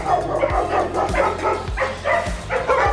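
Big breed dogs in outdoor shelter kennels bark loudly and continuously, several voices overlapping in a rhythmic, echoing chorus with some whimpering mixed in.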